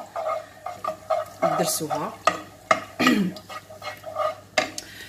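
Garlic is stirred into Algerian khalota vegetables frying in a pan, with busy utensil scraping and clatter over a steady sizzle while someone talks throughout.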